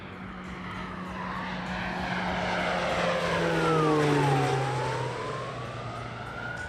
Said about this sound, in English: a firefighting air tractor 802 Fire Boss